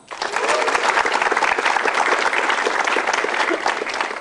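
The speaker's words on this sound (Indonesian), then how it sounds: "coba kita dengar tepuk tangannya untuk Pau Pau" A stand-up comedy crowd claps for a comedian named Pau Pau, a loud, dense, close burst of applause that starts abruptly and holds steady throughout with a few voices buried in it.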